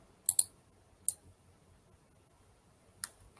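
Computer mouse clicks while using digital sculpting software: a quick pair of sharp, close clicks, then one single click, then another after a pause, all crisp and quiet against a near-silent background.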